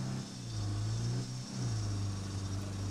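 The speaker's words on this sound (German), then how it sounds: "Wir fahren jetzt hier noch eine Runde Auto." A battered car drives in the survival game State of Decay 2, its engine holding a steady close hum with one brief dip in pitch partway through, as if easing off and accelerating again.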